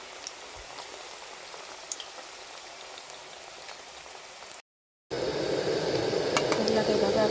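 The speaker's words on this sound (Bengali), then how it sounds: "এটা কিন্তু হালকা আঁচে ভাজতে হবে, বেশি আঁচ দিলে জিনিসটা পুড়ে যাবে।" Puffed rice chops fry in oil over low heat, giving a steady soft bubbling and crackle that runs on with no talk, then cuts out briefly and comes back louder and denser.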